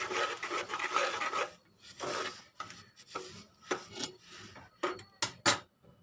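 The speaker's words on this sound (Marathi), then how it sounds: "तीळ टाकून घेतलेलं आहे आता हे पटापट आपल्याला हलवून घ्यायचं आहे" Sesame seeds stirred quickly in a pan for sesame-jaggery ladoos, giving a dry, raspy scraping in rapid bursts, loud and close, without speech.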